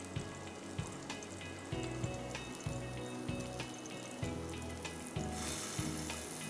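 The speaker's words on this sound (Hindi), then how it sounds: "तेल एक तो हम पॉमेस में फ्राई कर रहे हैं, ऑलिव ऑयल" Chicken nazuk kabab frying in pomace olive oil gives a steady, close sizzle throughout, with soft clinks and stirring bumps repeating every second or so.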